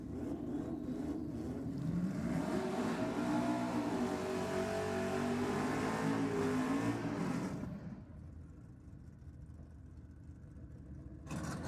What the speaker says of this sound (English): That is one sweet sounding Commodore.